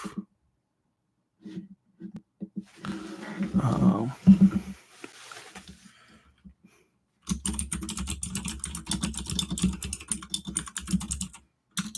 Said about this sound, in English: So this is my mechanical keyboard,